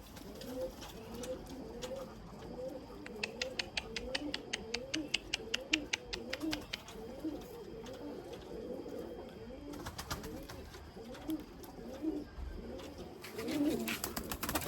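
Pigeons coo continuously in soft, repeated rolling phrases, with a few clicking, fluttering sounds mixed in nearby.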